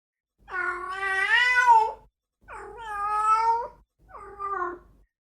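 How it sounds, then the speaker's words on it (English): Female cats in heat yowl at night in three long, loud, wavering cries separated by short pauses, each rising and bending in pitch. "one can hear female cats going through this some nights outside your window"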